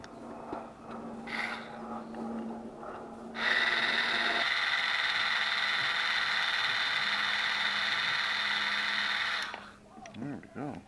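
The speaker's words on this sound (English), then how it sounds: "we're going to have to take off these 4 screws at the front" A driver bit turns screws out of the front of an LED light, a steady whirring grind lasting several seconds after some lighter handling clicks, with someone talking nearby.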